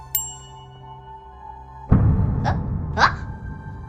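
A single bright metallic ding rings out near the start, followed by rustling, clattering movement and a couple of short vocal sounds.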